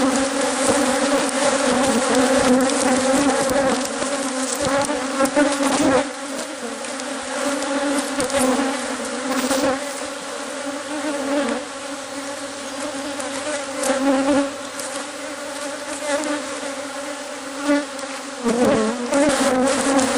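A dense, loud buzzing of many aggressive honeybees swarming close by at a hive, constant and agitated throughout with no talking.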